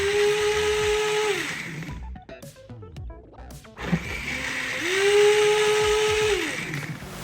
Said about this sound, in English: It'll run the machine and you'll notice that it'll blend for about 30 seconds and then it'll take a break.